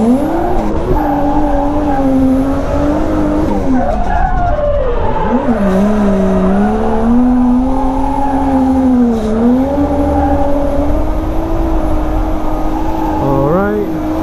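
A Toyota Cresta drifts around Nikko Circuit, its engine droning loud and close with a pitch that swells and dips through the corners, while tire squeal and skidding mix in underneath.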